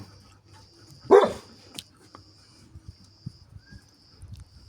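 Puppies: a single dog bark rings out near the start, followed by scattered soft yips and whimpers against a quiet background with a faint steady hum.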